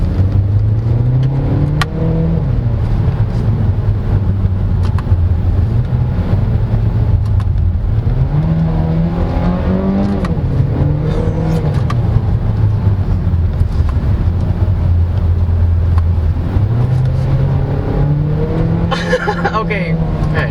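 A 2023 MG GT Sport in sport mode hums steadily from inside the cabin, its engine note rising and falling in pitch as it accelerates, while a person talks over it throughout.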